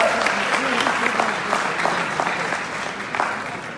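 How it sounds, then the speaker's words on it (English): Applause from an expo audience in Paris greeting Jumio's introduction, a steady wash of clapping with a few louder individual claps, moderately distant and fading slightly at the end. "Applause for Jumio."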